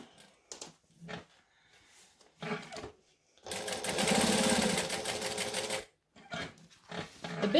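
A sewing machine stitches quilting fabric in one sustained run of rapid, steady whirring of about two and a half seconds, with shorter bursts of stitching and handling noise before and after.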